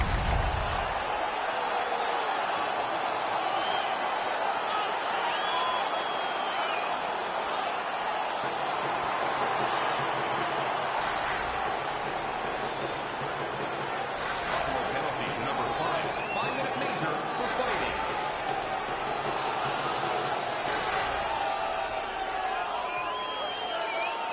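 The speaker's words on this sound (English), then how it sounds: "The home crowd is ecstatic." Home hockey crowd roaring after a fight, a loud continuous arena cheer with whoops and scattered bursts of applause throughout, with an announcer's voice faintly under the noise.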